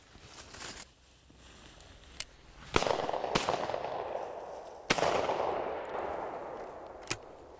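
Shotgun blasts ring out at flushed quail on a North Carolina farm hunt, several sharp reports spread over a few seconds with loud echoing tails across open fields and woods, no talking.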